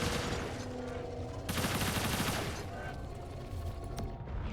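Burst of heavy automatic gunfire from a Fusillade ability in a competitive team shooter match, sustained and loud with overlapping shots and mechanical clatter, a cut partway through into a second dense volley, with faint voices underneath.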